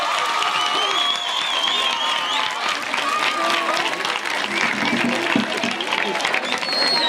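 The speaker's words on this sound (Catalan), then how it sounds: "Un aplaudiment molt fort per ells." A loud, sustained round of applause from a crowd for the musicians at a Sant Jordi centenary choral performance, dense clapping with scattered cheers and whoops running steadily throughout.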